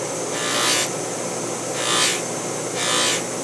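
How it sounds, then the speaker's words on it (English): Metal is pressed against a spinning buffing wheel, giving three loud, bright whooshing surges about a second apart over a steady motor whine, close by with no speech. "it makes a loud noise when you press the metal against the buffing wheel"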